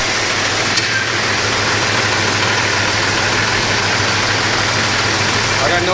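A Jeep Cherokee engine idles steadily after a steering pump and box install, a continuous close mechanical hum with a faint rhythmic knock.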